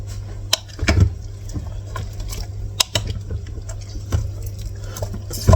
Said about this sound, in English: Gonna give that a little stir.